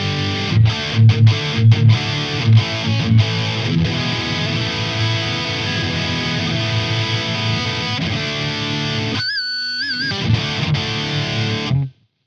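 An electric guitar played through a Boss distortion pedal rings out thick and saturated, opening with a few chugging hits before sustained chords, then a short bent lead phrase near the end, loud and close with no talk.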